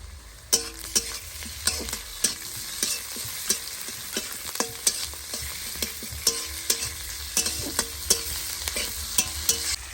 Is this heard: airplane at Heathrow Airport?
no